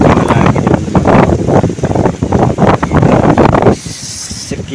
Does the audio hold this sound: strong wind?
yes